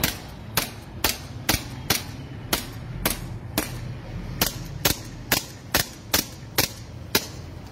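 Real handgun fired after the hammer is cocked, about fifteen sharp, evenly spaced cracks in a steady rhythm, loud and close with no talk over them.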